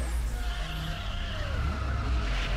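A car drifts in the racing game Need for Speed Underground 2, its tires squealing in long, wavering skids over a constant engine drone.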